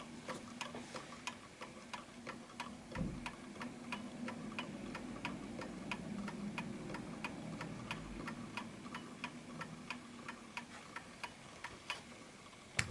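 Steady, even ticking of an antique Enfield Westminster chimes mechanical clock, quiet and close, with a faint low hum underneath and a soft thump partway through.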